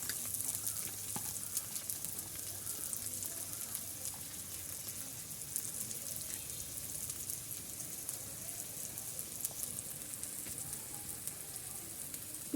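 Onions frying in oil in a pan, a soft continuous crackling sizzle like light rain, fairly quiet and even throughout, with occasional tiny pops and no talking.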